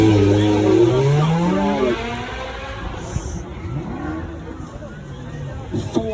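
A 4.3 litre V8 car of just under 500 horsepower passing at a drive-by event, a loud engine note sweeping past and fading, with crowd chatter in the background.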